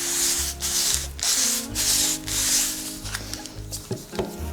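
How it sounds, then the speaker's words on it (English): Newspaper is pressed and squished with a wooden pot maker, producing repeated close rubbing, scraping rustles in rhythmic bursts, alongside low thumps and handling noise. "get the bottom of the pot dolly and give it a good squish"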